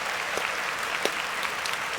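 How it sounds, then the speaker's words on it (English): Applause rings out in a steady, dense patter for about two seconds, with a few sharper individual claps standing out near the middle and end, no voices over it. "Let me clap that shit up for you"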